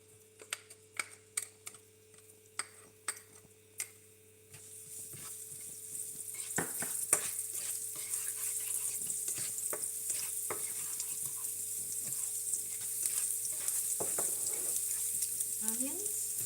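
Garlic hits a hot pan with a few sharp clicks of a utensil, then a steady, bright sizzle of frying builds and holds, with occasional scraping stirs, close and fairly loud.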